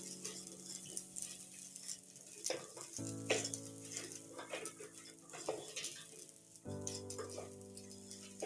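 Rice fries in oil in a pot, a quiet crackling sizzle with scraping and clinking as it is stirred, beneath steady background music.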